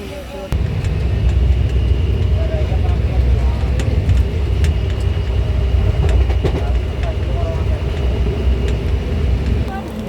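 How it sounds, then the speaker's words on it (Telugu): A loud, steady rumble of the Kachiguda–Mysuru Superfast Express idles at a station platform for the whole stretch, with faint station chatter and clanks in the background. "నేను ఎక్కబోయే ట్రైను, నేను వెళ్ళబోయే ట్రైన్ ఇదే."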